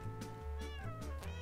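A Minecraft cat meows a few times in quick succession, clear and close with tonal, wavering calls, no talk over it.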